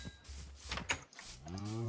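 A cow's low, drawn-out moo in Minecraft rises in the second half, preceded by soft clicks and shuffling; no speech.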